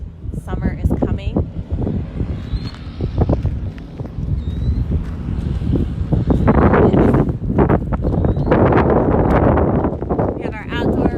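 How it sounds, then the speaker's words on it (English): Strong gusts of wind buffet the microphone in an outdoor horse arena, roaring and rumbling almost continuously while a person talks over it. "our outdoor arena here, which is really windy. I'm sure you can hear that"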